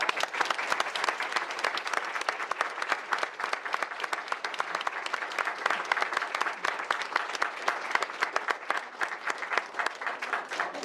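Audience at a school board meeting applauding the trustees, a sustained, full burst of many hands clapping at an even, lively intensity for about ten seconds.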